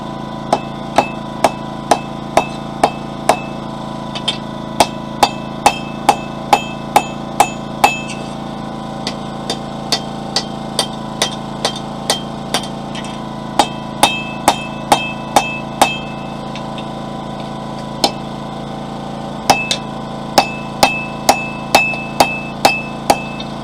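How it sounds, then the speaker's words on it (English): Metal being hammered at a forge while a fire poker is shaped, sharp ringing blows struck in quick regular runs with short pauses between them, loud and close over a steady background hum. "It's just me hammering."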